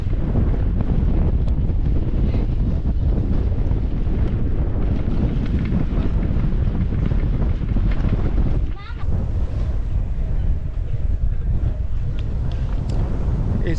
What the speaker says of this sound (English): It's a very windy day this afternoon